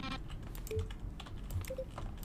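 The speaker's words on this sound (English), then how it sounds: "Each sound is a mix of keyboard stroke and a synthesized tone." Button presses from the video game The Stanley Parable, each blending a keyboard keystroke with a synthesized tone; a few sparse clicks with short tonal blips sit over a quiet background, with no voices.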